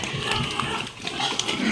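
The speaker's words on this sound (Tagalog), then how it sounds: "pag mag-ingay pa ang baboy, nakukulangan po yan sa pagkain" Pigs on a farm squealing and grunting in a steady, busy din, several animals close by with overlapping calls and no clear pauses.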